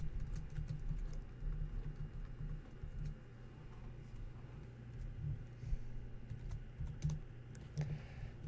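Steady tapping on a computer keyboard, quiet and close, with irregular bursts of keystrokes continuing throughout.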